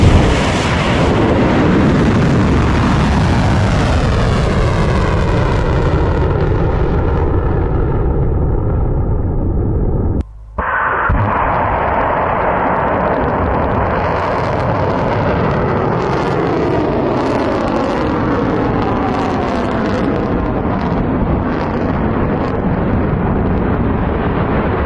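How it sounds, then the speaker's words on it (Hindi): Iranian missile strikes exploding: a loud, sustained roaring blast that fills the whole stretch, broken by a brief cut near the middle, then continuing as a dense rumbling roar with crackling bursts. "ईरान ने जो मिसाइलें दागी हैं, जो कामयाबी से सातों के सातों देशों पर हिट हुई है, उसका वीडियो भी जारी किया है ईरान ने"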